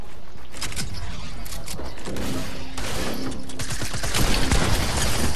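Video game gunfire in an online shooter: loud, dense bursts of rapid shots and clattering mechanical noise run nearly nonstop and grow heavier toward the end, with no talking.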